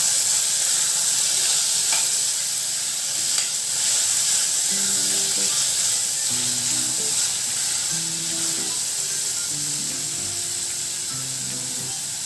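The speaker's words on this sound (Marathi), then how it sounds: "आता मी त्यामध्ये इथे एक टोमॅटो बारीक चिरून घेतलेला आहे सुद्धा आपण कांद्याबरोबर थोडासा परतून घेणार आहोत" Finely chopped tomato sautés with onions in a pan, giving a steady, even sizzle with soft stirring; faint melodic tones play underneath.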